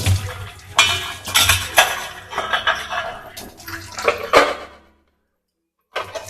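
Dishes, pots and cutlery clatter and scrape against each other with running water, a busy close-up jumble of clinks that stops for about a second before resuming briefly.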